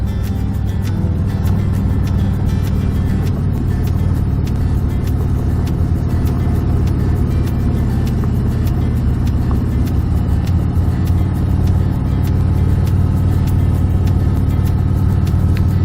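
A three-wheeled motorcycle rolls along a gravel road with a steady, continuous engine and tire rumble, close and loud from start to finish.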